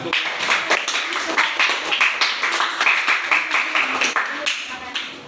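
A room of people claps in a classroom or discussion session, the claps coming in a fairly regular, slightly ragged rhythm, close and moderate in level, with voices faintly mixed in.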